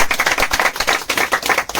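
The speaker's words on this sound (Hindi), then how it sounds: "प्रभु की महिमा के लिए ताली बजाएंगे।" Church congregation claps in praise during a worship service, a brisk, steady burst of many hands clapping together at close range, with no talk over it.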